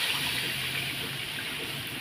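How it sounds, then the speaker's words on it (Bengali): Water poured into a pan of Bengali fish curry as it cooks, a steady rushing pour heard close and continuous with no talk. "এখন আমি জল দিয়ে দেবো, এই দেখো জল দিয়ে দিলাম।"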